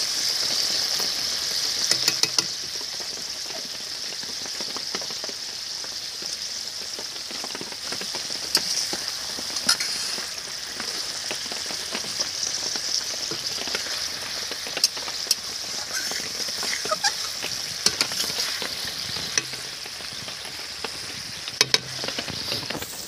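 Spoonful of desi ghee sizzling in a hot pan of rui fish kalia, a steady close frying hiss held throughout with occasional small pops and stirring clinks.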